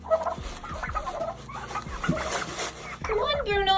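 A pet turkey gobbling in a quick rattling burst near the start, followed by more gobbling and bird calls at the end, while a woman coaxes the birds in an affectionate voice.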